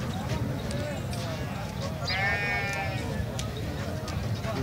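At Shahpur Kanjra livestock market in Lahore, a Desi goat lets out one clear wavering bleat close by amid constant crowd chatter, with someone speaking throughout.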